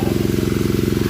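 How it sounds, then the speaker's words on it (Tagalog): A motorized water pump runs close by with a loud, rapid, even chugging pulse, steady throughout the short stretch. "May motor ng tubig."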